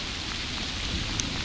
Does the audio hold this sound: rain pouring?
yes